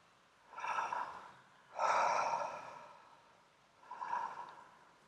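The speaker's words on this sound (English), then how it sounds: "Deep connected breathing." Deep connected breathing during a breathwork session: three slow, loud airy breaths close to the ear, each swelling and fading with quiet gaps between, no talking.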